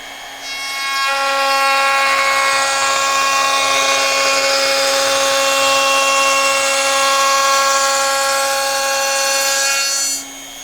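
A handheld wood trimmer router cuts a rounded edge on a furniture wood piece, a loud, steady high-pitched whine with a rough cutting rasp running for about nine seconds before spinning down, close and alone.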